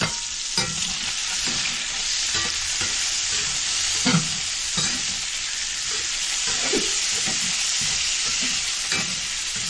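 Brats frying in a cast iron skillet give a steady, close, dense sizzle with scattered pops and a few louder spatters, heard alone throughout.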